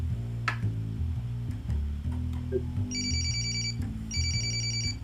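A telephone rings twice in the CSI video game, each a bright electronic trilling ring repeating in short bursts. Between them come ticks and clicks, and a low, steady background music hum plays underneath.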